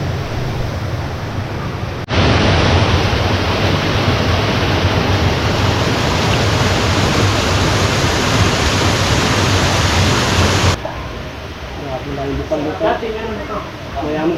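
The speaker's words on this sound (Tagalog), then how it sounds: "Daming naagos na tubig." A mountain river rushes loudly in a continuous broadband roar that starts abruptly, holds steady for about nine seconds, then cuts back to quieter surroundings.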